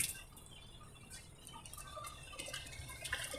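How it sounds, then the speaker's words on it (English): Bottled water splashes and drips onto the floor of a truck cab, faint and intermittent trickling with small patters growing busier toward the end, no voices. "So I actually pour water, just bottled water, on my floors."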